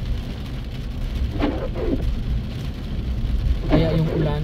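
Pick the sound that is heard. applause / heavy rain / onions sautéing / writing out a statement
heavy rain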